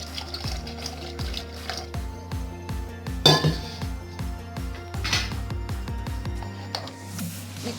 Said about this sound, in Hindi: पानी शामिल करूँगी इसमें मैं।